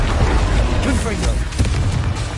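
A short, booming blast from the Confringo spell in the video game Hogwarts Legacy, a punchy burst of explosive noise amid other combat effects and a voice.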